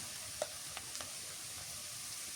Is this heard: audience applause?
no